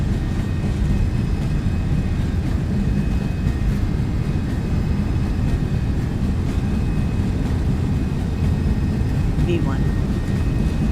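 Airliner jet engines at takeoff thrust during the takeoff roll in the X-Plane 12 flight simulator, a steady, loud broadband roar with heavy low rumble that holds constant throughout without breaks.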